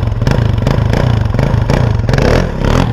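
A dirt bike engine revs hard as the clutch is popped for a wheelie on wet grass, the loud, close motor rising and falling in repeated bursts with some rattling clatter.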